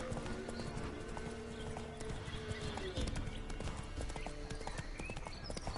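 Hooves clip-clop in a steady galloping rhythm with an occasional whinny from a horse in The Witcher 3, loud and continuous beneath faint ambient game sound.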